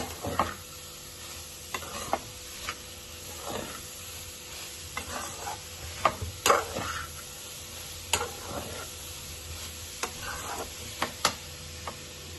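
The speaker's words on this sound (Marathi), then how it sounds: "आता हा पुन्हा आपण तुपात भाजून घेऊ।" Grated carrot roasts in ghee in a pan for gajar halva, a soft low sizzle broken by scattered scraping and tapping of a spoon stirring, quiet and close, with no talking.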